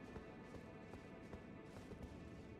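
Horse hooves clopping in a sword-fighting video game, a steady galloping beat of soft thuds running the whole time and holding at an even loudness, with no voices.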